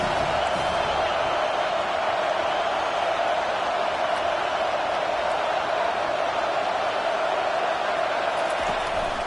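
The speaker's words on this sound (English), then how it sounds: "Decibels rising as the crowd gets behind this defense on third down." A college football stadium crowd roars on a third-down defensive stand, a dense, steady wall of cheering and noise that holds loud throughout with a broadcast voice underneath.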